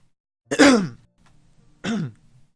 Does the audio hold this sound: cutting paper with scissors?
no